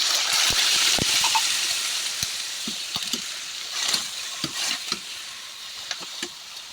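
Fried tofu in a pan with onion and tomato hisses loudly as water is poured in. The sizzle then fades to a softer bubbling, broken by scattered clinks and scrapes from stirring.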